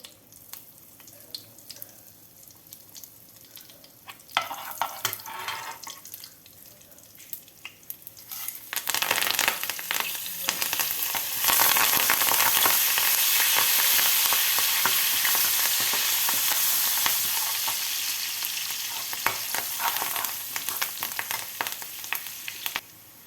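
Garlic, dried red chillies and cumin sizzle in hot oil in a pan as a tempering for Andhra-style sambar. Quiet kitchen clatter gives way to a loud, sustained, close sizzle that rises around the midpoint and holds steady, with no speech.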